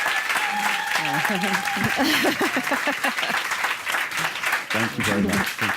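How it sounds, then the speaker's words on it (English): A big round of applause from an event audience rolls on steadily, loud and continuous, while a speaker talks over it. "just do a huge round of applause"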